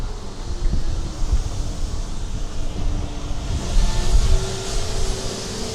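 Outdoor wind in Carcassonne buffets the microphone as a constant low rumble with gusty swells, and nothing else stands out.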